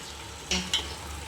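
Mutton being stirred with turmeric powder in a pan, two quick scraping strokes of a spoon over a steady low sizzle, close and fairly quiet.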